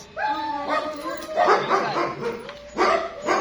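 A German shepherd barks and yips in short bursts with a few whining notes, close by, with pauses between the outbursts.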